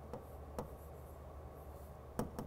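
A marker or chalk writing numbers on a board during a fourth-grade math lesson, faint scratchy strokes with a few sharper taps, quiet and close.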